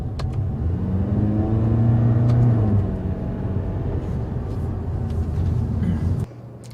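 Cabin of a 2014 Toyota Corolla on a street: a steady low road and engine rumble with a rising engine tone, continuous and fairly loud, easing off and dropping near the end.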